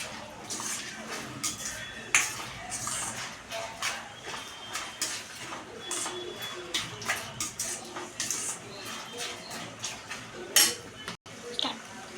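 A spoon stirs ginger into a curry in a pot, bringing repeated metallic scrapes and clinks in an uneven rhythm, close and moderately loud, with a louder knock near the end.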